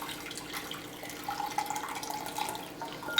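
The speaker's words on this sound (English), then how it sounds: "I'm just gonna wet my little whisk with some hot water" Hot water poured from a kettle into a bowl to wet a bamboo matcha whisk, a soft steady trickling splash that builds slightly, close-up in a quiet kitchen.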